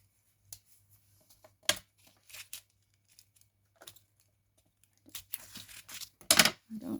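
Quiet, sparse snips and rustles of paper being cut, with a few louder crinkly bursts near the end.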